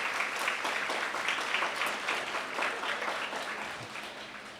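An audience at a school award ceremony applauds, a steady, moderately loud wash of clapping that slowly fades toward the end.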